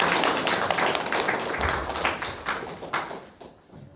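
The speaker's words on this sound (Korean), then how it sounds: "박수." A church congregation breaks into dense, loud applause that holds steady for a few seconds before tapering off near the end.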